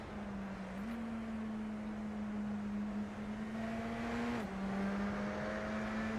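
A Radical SR10 race car in a sim racing game at Watkins Glen, heard from onboard. The engine holds a steady droning note with a brief pitch step near the start and a shift later on.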